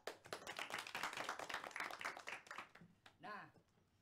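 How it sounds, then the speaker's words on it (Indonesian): A small classroom group claps for two students during a history microteaching session, a quick burst of scattered hand claps that thins out, followed by a brief spoken voice near the end. "Beri tepuk tangan untuk dia berdua"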